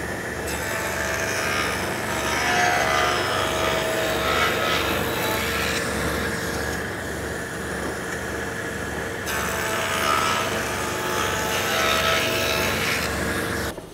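A board for a blanket chest is fed through a power saw that cuts a centered groove doubling as a mortise, producing a steady, loud, close-up whirring cut with a low, pulsing hum underneath and no talking.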